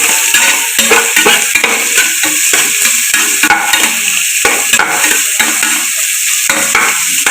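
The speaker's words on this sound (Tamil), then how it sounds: "ஆனியன் நல்லா ஃப்ரை ஆகட்டும்" Onions fry loudly and close up in a pan for mutton biryani. A constant hissing sizzle runs throughout, broken by rapid, rhythmic scraping as a spatula stirs them.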